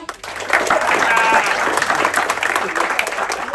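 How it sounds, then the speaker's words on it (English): A crowd applauds during crew introductions at a celebration, with sustained, dense clapping and some cheering or voices mixed in, loud and close. "Big applause for Huda."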